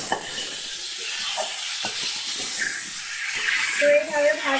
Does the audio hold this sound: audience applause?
no